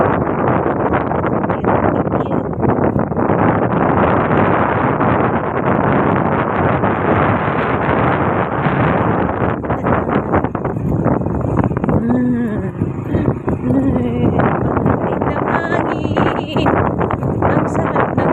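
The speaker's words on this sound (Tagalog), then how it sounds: "Ang sarap ng hangin." Wind blows steadily outdoors on Siquijor, a loud continuous rushing roar buffeting the microphone for the whole stretch, with faint voices underneath toward the end.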